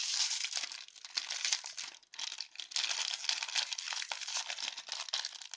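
Crinkly plastic rustling and tearing as a sealed packet holding a collectible superhero eraser is pulled open, with dense crackling bursts, close and fairly quiet.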